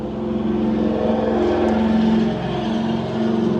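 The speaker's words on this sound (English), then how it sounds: "It's a little noisy on this section of the road." Steady traffic roar along a road beside a construction site in Ohio, a continuous broadband engine and tire drone with a low hum, fairly loud and unbroken, no voices.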